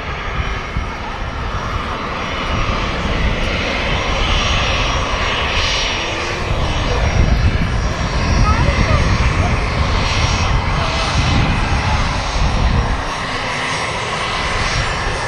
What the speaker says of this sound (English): The Virgin Atlantic is on its way to New York, so that's taxiing out behind the British Airways Embraer